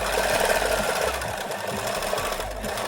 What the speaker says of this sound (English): and then we're gonna sew it again